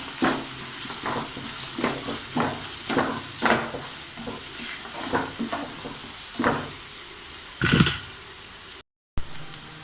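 Onions cook in a pan with salt and turmeric under a soft, continuous sizzle, while a series of rhythmic scrapes and stirring strokes come through close and clear, followed by a brief gap near the end.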